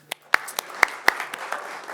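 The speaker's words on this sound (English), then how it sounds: "Let's give a round of applause for my co-author." A small audience claps briefly at a talk featuring drumming, a handful of sharp, distinct, separated claps rather than a full round, close and moderately loud over a quiet room.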